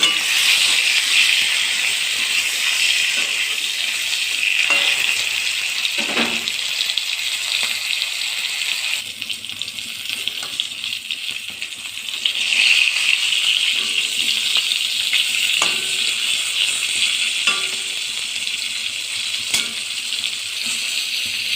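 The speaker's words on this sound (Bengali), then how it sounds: "নুন হলুদ দিয়ে এটাকে ভেজে নেব" Pointed gourd fries in a pan with salt and turmeric, giving a steady hissing sizzle throughout with a few faint clinks and shuffles of the pan.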